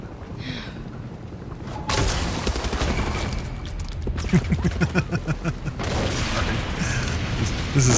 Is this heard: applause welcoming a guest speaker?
no